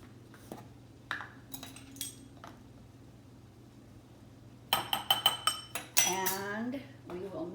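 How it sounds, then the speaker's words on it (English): A metal spoon clinks and scrapes against a bowl while chili spices (onion powder, garlic powder and seasoning) are mixed, scattered taps early, then a quick burst of loud clattering strokes near the end. "And we will mix this up."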